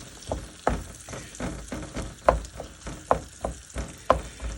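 Onion, garlic and carrots sweat in a pan with a soft, quiet sizzle, broken by a regular series of stirring scrapes and knocks about every half second to a second, close by, no talking.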